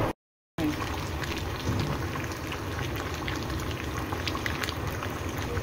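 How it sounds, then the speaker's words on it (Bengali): A full pot of meat boils on a kitchen stove with a steady, dense bubbling and crackle, close and continuous after a brief silent gap at the start. "এখানে মাংস ফুটছে।"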